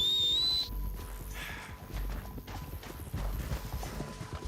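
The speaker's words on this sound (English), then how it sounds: "Oxe, o cavalo passou reto." A horse gallops past in Red Dead Redemption 2, its hoofbeats thudding in a rapid rhythm just after a brief whistle, with game ambience underneath.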